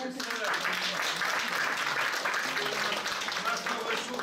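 An audience at a jubilee concert in Togliatti applauds steadily, a dense, even wash of many hands that continues at full level throughout, with voices faintly mixed in.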